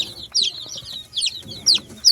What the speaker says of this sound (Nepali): यो चाहिँ सोनाली लोकल कुखुरा जस्तै हो।